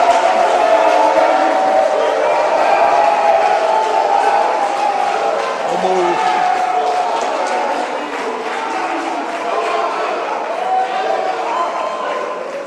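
A large crowd cheers and applauds for Godwin Obaseki, the PDP candidate and governor of Edo State, in a loud continuous roar of clapping and shouting that slowly eases, with voices through it.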